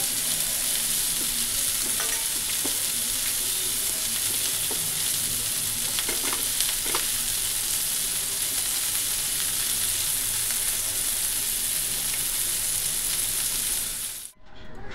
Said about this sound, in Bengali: বিনস আলু ভাজা হয়ে গেছে